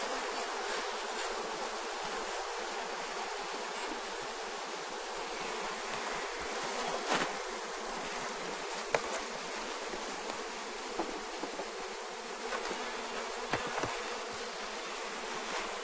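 A dense, steady hum of many honey bees buzzing close by around a hive, with a few louder individual passes standing out from the swarm.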